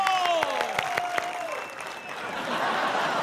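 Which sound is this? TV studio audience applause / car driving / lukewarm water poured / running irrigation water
TV studio audience applause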